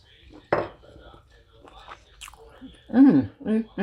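Close bites and chewing sounds, wet and crunchy, come in short bursts between soft murmured appreciative hums from the eater.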